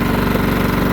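A John Deere STX38 riding lawnmower engine runs at a steady pace, a loud close chugging drone with a fast regular pulse throughout the short stretch.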